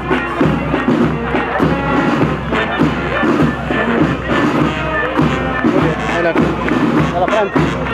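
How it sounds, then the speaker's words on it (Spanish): Crowd at a school district anniversary celebration in Monte Comán applauding and cheering, a loud, busy mix of clapping, cheers and babble. "Fuerte el aplauso para todos ellos."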